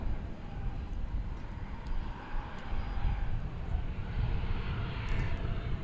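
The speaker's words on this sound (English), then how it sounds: "This, as you might have heard, is Alaska Flight 303. It's going to Phoenix. It's a 737-800." An Alaska Airlines Boeing 737-800 jet on Flight 303 to Phoenix at DFW Airport gives a steady, broad engine roar that holds throughout at moderate distance, with no talk over it.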